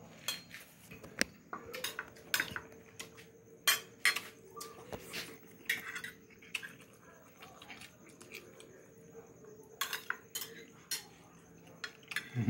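Fried chicken cooked without oil being served onto a plate for dinner, with sharp, scattered clinks and scrapes of cutlery against the dish, near and intermittent, over a quiet background.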